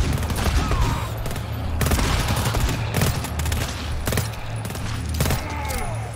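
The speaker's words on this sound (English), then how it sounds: "This turret, every time it fires, my screen shakes and more blood gets on it." An automated turret in the co-op shooter GTFO fires in rapid repeated bursts, a dense, loud clatter of gunfire that keeps going throughout with little pause.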